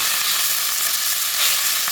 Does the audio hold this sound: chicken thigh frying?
yes